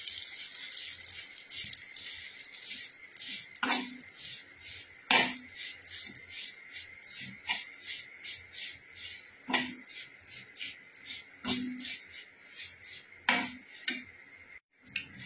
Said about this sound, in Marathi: तूप गरम झाले तर त्याच्यामध्ये आता आपण ज्या शेवया घेतलेल्या आहेत त्या थोड्या परतून घेऊया